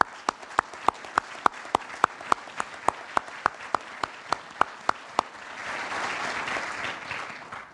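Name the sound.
audience applause at change of command ceremony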